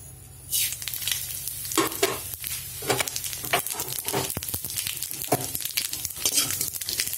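Steady crackling sizzle of mustard seeds and urad dal frying in hot oil over low flame for curd rice tempering, close up, with occasional scraping and stirring noises over the spattering.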